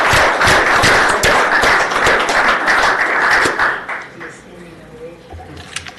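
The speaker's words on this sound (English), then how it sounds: "Let's give them a round of applause for their work." A meeting room of people gives a round of applause for agency staff, brisk, close and loud clapping lasting several seconds before tapering off into quiet murmur and a few stray claps.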